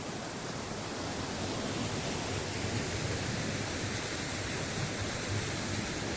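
Waterfall and river near Kottakudi village in Theni, a steady, dense rush of falling and flowing water that holds an even level throughout, close and loud, with no voices.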